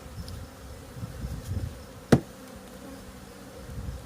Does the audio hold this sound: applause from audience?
no